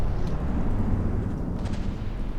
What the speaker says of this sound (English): Oh, those were some good torpedo hits.